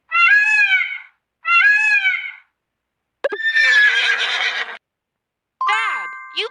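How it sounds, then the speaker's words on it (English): A horse neighs loudly and close, several separate whinnies with quivering, descending pitch, each standing alone with silence between calls. "Horse."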